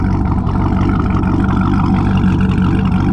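A Corvette C6 Z06 with its LS engine and stock cam drones loud and steady from close range, a dense continuous engine roar on a canyon drive.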